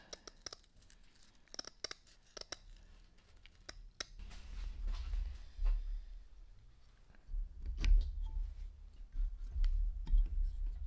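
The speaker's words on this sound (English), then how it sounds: "it turns out the best way to cut this stuff is just with scissors" Inexpensive household scissors snip through material for a Honda chopper motorcycle build, giving a run of sharp, close cuts and clicks, then a low rumbling handling noise takes over.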